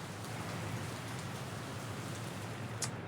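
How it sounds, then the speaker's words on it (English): Steady rain falling in the city-building game Workers & Resources, a constant even hiss with no talking and a brief brighter patter near the end. "Jeez, the rain."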